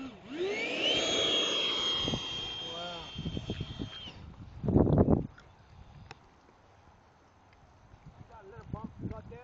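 An Art-Tech F-18 RC jet model flies over a grassy field, its whining electric ducted-fan tone sweeping in pitch as it passes. Then come fainter handling thumps and noises, with a loud burst of noise near the middle.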